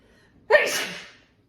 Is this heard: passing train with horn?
no